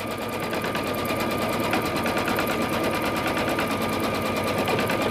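An embroidery machine stitches an applique placement line on a sweatshirt, a steady, fast mechanical whirring and needle chatter running continuously at even volume without pause.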